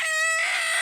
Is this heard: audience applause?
no